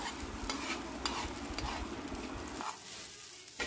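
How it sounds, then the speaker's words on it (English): Grated coconut roasting in a pan over a low flame, giving a steady soft scraping and gentle sizzle as it is stirred, which drops away near the end, followed by a faint clink. "grated coconut for roasting. Roast with low flame."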